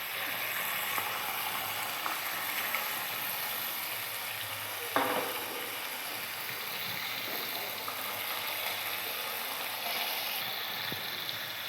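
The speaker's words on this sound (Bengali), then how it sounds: "এরপর আমি এই মাছগুলোকে ভেজে নেব" Amudi fish frying in hot oil in a kadai, giving a steady, close sizzle that runs the whole time with one brief louder crackle partway through.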